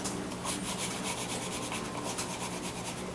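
Close, rhythmic rasping strokes of a hard tool rubbed back and forth along the edges of a leather knife sheath, an even scraping that repeats steadily with no voices.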